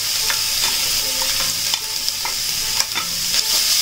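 Grated carrot for gajar ka halwa fries in melted ghee and is stirred steadily, making a bright, even sizzle broken by regular scrapes and light knocks of the spoon against the pan.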